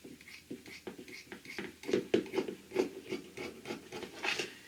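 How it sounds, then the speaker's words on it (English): Scissors trim the excess fabric from a stitched bingo carrying caddy, with soft repeated snipping and rasping close up and quiet. "I'm going to trim off some of this excess."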